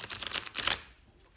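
A deck of cards for a reading is shuffled close by in a quick riffling flutter lasting under a second, then trails off into quiet.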